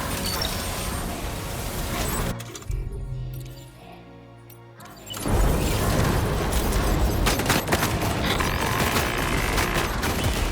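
Dense, loud rapid bombardment of heavy gunfire and booms from a ship's main cannon in Death Stranding 2, briefly dropping to a rumbling lull before the barrage resumes at full intensity.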